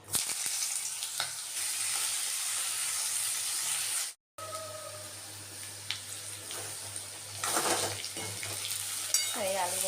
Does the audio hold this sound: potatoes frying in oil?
yes